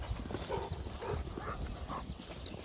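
A dog named Coop runs toward the camera on a walk, paws pounding in a quick galloping clip-clop rhythm like a horse, close and steady over outdoor ambience.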